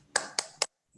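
Three sharp, evenly spaced claps from an online teacher-training group's rhythmic spirit-clap cheer, close and crisp, followed by silence and a faint trailing sound.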